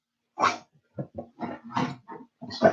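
Several dogs on a bed make a run of short, close barks and yips in quick irregular bursts, with a small whimper-like sound between them.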